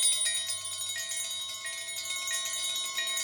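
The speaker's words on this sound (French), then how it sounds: "C'est fou qu'est-ce qu'il y a comme cloche partout" Several bells ringing together in a Looney Tunes cartoon, a bright, sustained shimmer, with repeated strikes layered over lingering tones and no talking.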